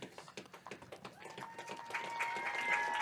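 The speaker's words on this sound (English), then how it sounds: "please give a warm round of applause to the Columbus Catholic Seniors." Crowd at a high school baseball game between Loyal and Columbus Catholic applauding the Columbus Catholic seniors, a dense patter of clapping that builds and swells over a few seconds.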